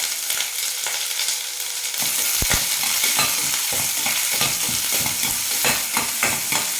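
Onions sautéing in a pan with curry leaves and chilli for a healthy breakfast dish, a steady broadband sizzle broken by frequent scraping stirs and spoon knocks, close and fairly loud with no voices.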